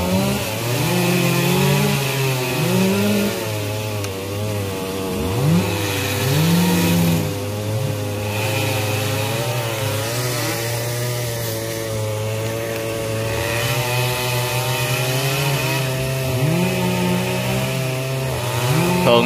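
A chainsaw cuts through a perennial tamarind tree outdoors. The engine runs loud and continuous throughout, and its pitch rises and falls as the blade bites into the wood and eases off.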